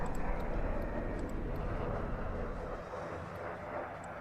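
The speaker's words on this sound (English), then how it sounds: "They're slowly taxing onto the runway" Steady aircraft engine drone from a plane taxiing onto a runway in Arma 3, a constant low roar that eases slightly toward the end, heard faintly and without talk.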